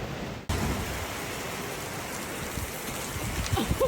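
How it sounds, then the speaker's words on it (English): Steady rain falls on a farm, a dense even hiss that starts abruptly after a brief quieter moment and continues close and loud with scattered drop impacts, no talking. "when it's raining and we can't walk"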